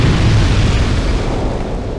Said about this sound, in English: Walk back a little bit so you don't get hit by the explosion